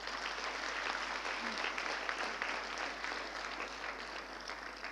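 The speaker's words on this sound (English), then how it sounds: "Drs. Reggie Koshi and Avita, also deserve a big round of applause." A graduation ceremony audience at a medical college hall gives sustained applause, a dense, even wash of many hands clapping throughout with no talk over it.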